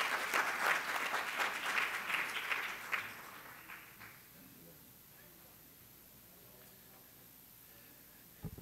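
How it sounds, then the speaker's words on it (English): Applause from a seated audience at a panel event on economic development greets an Assembly member from the Bronx, loud for about three seconds and then thinning out into a quiet room hum. "Give him a round of applause"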